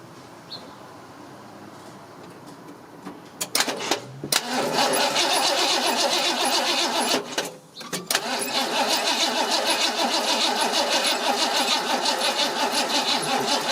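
A 1976 Ford Econoline van engine cranks in short bursts, cuts out, cranks again and then catches, settling into a loud, steady running rumble up close with no talk over it.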